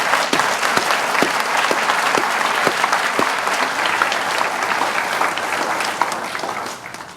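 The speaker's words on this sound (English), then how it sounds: "Please join me in giving them a round of applause." A graduation audience at a school ceremony gives steady, loud applause that fills the hall for several seconds, with a few sharper claps standing out, before slowly thinning near the end.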